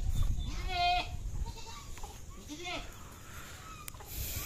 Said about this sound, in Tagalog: Kasi ito kulungan ng kambing.